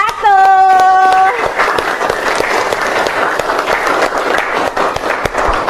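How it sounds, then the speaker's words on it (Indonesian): A school classroom of pupils claps for a group after its storytelling turn, brisk loud applause with excited voices and a brief whistle-like tone at the start. "Tepuk tangan untuk kelompok 1."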